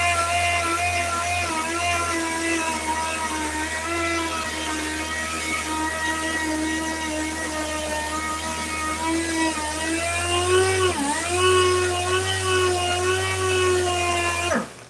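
A power tool whines steadily while smoothing a Corvette seat, a loud continuous motorized whir with a slight dip near the end before it stops abruptly.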